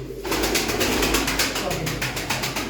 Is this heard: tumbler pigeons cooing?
yes